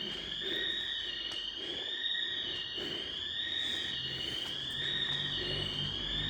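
A fire alarm blares continuously inside an abandoned Toys R Us store, a loud, steady, wavering electronic tone that fills the whole stretch with no one speaking.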